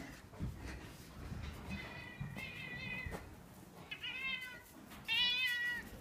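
A talkative cat named César at a horse rescue barn meows repeatedly, several drawn-out calls in a row with the loudest near the end, over a noisy background of rustling and movement with almost no talk.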